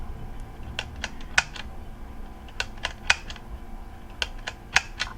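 Sharp mechanical clicks from a Pearl River twin-lens reflex film camera as the film is advanced and the shutter fires, a dozen or so irregular snaps, some doubled, close-up over a faint background hiss.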